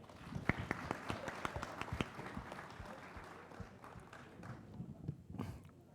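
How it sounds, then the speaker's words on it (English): Scattered, faint clapping from a summit panel audience at an economic policy event, individual sharp claps audible in an uneven rhythm rather than a full ovation. "would request everyone to please give him a round of applause"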